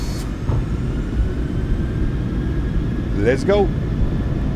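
PMDG 737-800 engines at takeoff power in the MSFS2024 flight simulator give a steady, loud low rumble, with someone briefly speaking over it near the end.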